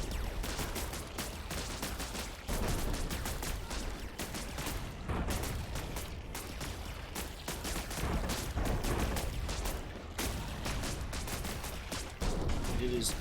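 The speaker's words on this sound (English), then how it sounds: "explosions on both sides, craters where once there were men" Battle in the RTS autobattler video game Buggos, with missile launchers and boom slugs: dense, relentless bursts of gunfire and explosions, loud and continuous, overlapping with no real pauses throughout.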